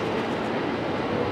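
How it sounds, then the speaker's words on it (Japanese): An E231-800 series train rolls into platform 5 at Mitaka Station, Japan, with a steady, loud rumble of wheels and engine noise. No voices are heard. "5番線に快速東京行きが参ります。"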